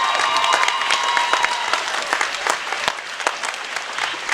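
Loud, sustained crowd clapping at an Indivisible Bellingham rally, dense at first then thinning into scattered claps with a few cheers.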